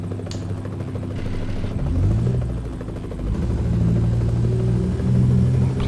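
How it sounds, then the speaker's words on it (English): A plane crashes in the truck-driving game American Truck Simulator, heard as a loud, sustained engine rumble and drone with rising and falling tonal whine throughout, no talk over it. "Plane done crashed, okay."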